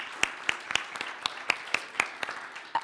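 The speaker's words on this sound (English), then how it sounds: "Let's give them all a round of applause." Sparse, slow clapping at a church service, a few hands striking in an even rhythm of about four claps per second, fairly quiet and distinct against a hushed room.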